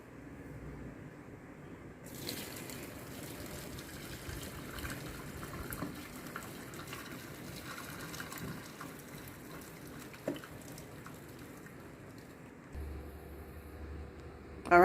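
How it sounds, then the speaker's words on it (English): Excess water poured off from a loosely covered cooking pot after boiling saltfish for Jamaican ackee and saltfish, a steady close splashing gush running several seconds at moderate level before tapering off. "we're just going to slightly cover the pot like so and throw off the excess water"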